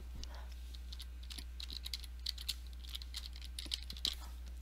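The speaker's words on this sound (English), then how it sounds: "That's the sound of a keyboard." Light typing on a computer keyboard, a quick irregular patter of soft key clicks over a low steady hum.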